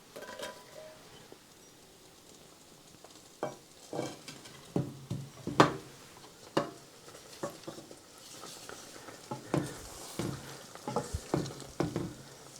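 A spoon gently folds a mixture together in a bowl, with soft, close scrapes and light taps that come in uneven clusters against a quiet background.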